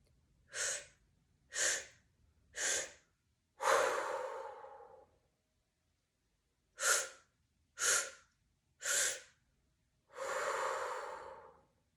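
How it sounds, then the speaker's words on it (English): Three short sipped inhales followed by one long exhale, and then the same pattern again. The breaths are close and clear against silence. "We inhale 3 sips through the mouth and exhale 1 long continuous through the mouth."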